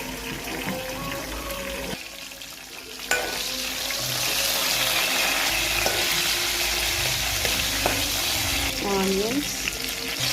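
Cumin and mustard seeds fry in hot oil in a pot for kothimeera chutney. A steady, close sizzle runs throughout, with occasional clinks and stirring noises and no talking.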